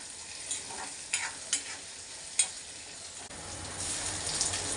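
Mixed vegetables fry in a pan while being stirred, giving a soft background sizzle broken by several distinct scraping strokes.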